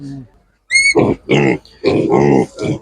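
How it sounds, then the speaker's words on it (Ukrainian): Pigs at a Ukrainian animal market give a few short, close grunts in quick succession, opening with a brief high squeal. "Ось такі свинки."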